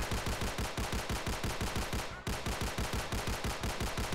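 Rapid, relentless gunfire from enemies in Miirio's Bizarre Adventure, a video game: a loud, evenly spaced stream of shots hammering without pause for the whole stretch, with a brief dip midway before the barrage carries on.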